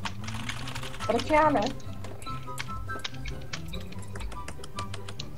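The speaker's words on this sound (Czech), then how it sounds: "Si můžeme užívat zvuk klávesnic." Computer keyboards clatter in quick, irregular clicks and taps close by, while people talk briefly over them.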